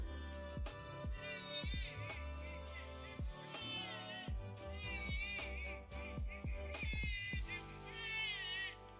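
Several electronic meows repeat in a rhythmic, high-pitched pattern over a thumping beat, sounding like a toy cat playing a looping tune.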